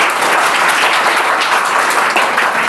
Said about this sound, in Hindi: ताली मारिए इनके लिए।